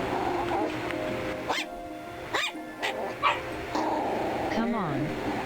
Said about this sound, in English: I don't know if you can hear them barking in the background or not